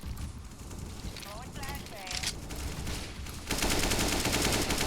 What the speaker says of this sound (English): they're shooting me through the smoke